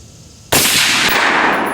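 A single sharp, loud rifle shot from a Rock River Arms 6.5 Creedmoor cracks out of near-quiet and rings into a long, decaying echo across an open range.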